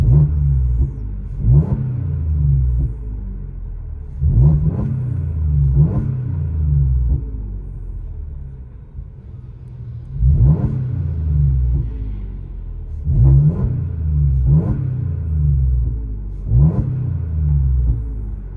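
A deep supercharged 3.0-litre engine in a 2017 Audi Q7 with a Magnaflow exhaust revs hard in repeated bursts, roaring up and falling back to a heavy rumbling idle, heard from inside the vehicle.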